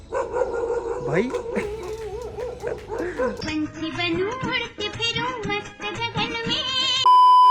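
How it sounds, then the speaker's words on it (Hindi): Several dogs bark, yip and whine in quick, uneven bursts nearby, with some talking mixed in. "सेम वे कुत्ते भौंक रहे"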